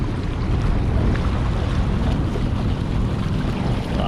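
A small boat moves fast across open water, a steady loud rush of wind and water with engine rumble, close and continuous for a few seconds.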